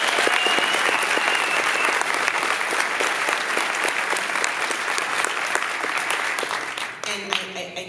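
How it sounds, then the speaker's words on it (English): A conference audience claps for the presenters, with dense, sustained hand-clapping from a sizable indoor crowd that tapers off near the end as a voice starts speaking. "can I please ask you for a round of applause for all the folks who presented?"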